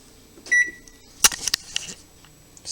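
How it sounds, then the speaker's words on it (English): A kitchen timer gives one short electronic beep during homebrewing, followed by a few sharp clicks and clatters nearby, with no talking. "Set the timer."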